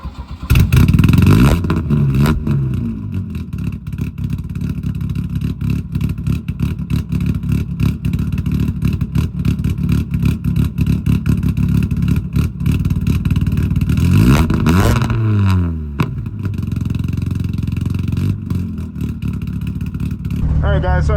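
A drift car engine revs and accelerates hard on a straight 0-to-60 run, a loud continuous roar with rising and falling sweeps around the gear changes, mixed with clatter and wind noise.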